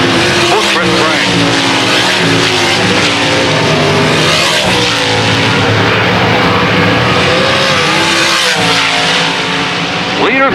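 Race cars roaring around a track in a heat race, a loud, continuous engine drone with revving swells as they pass. A commentator talks over the noise throughout.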